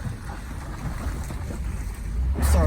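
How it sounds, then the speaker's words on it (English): A vehicle rolls through a shallow creek, with steady rushing water and splashing noise building louder toward the end, mixed with wind buffeting the microphone. "We're gonna drive through it."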